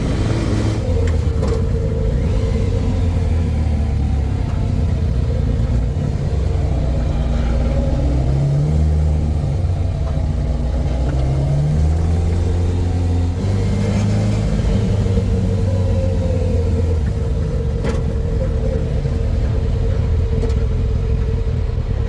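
A kei truck fitted with a swapped-in motorcycle engine drives along, its engine droning steadily and rising and falling in pitch as it revs and shifts, under continuous loud road and cabin rumble.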